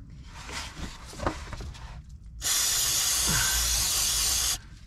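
Brake cleaner sprays from an aerosol can while fixing a leaky dipstick on a 7.3 Powerstroke diesel; quieter handling noises come first, then a loud, steady hiss lasts about two seconds and stops abruptly.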